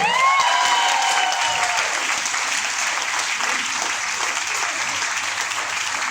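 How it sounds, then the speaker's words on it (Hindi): Steady crowd applause at a motivational training speech in Raipur, dense clapping throughout, with a voice briefly audible at the start before the clapping carries on alone. "मगर तालियां वही बजाता है जिसके हाथों में दम होता है।"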